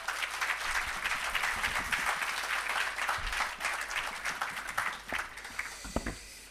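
An audience applauds at the commissioning and launch of the Parnassus irrigation system and agro park in Jamaica, a steady, even wash of many hands clapping that carries on for several seconds with no voices on top.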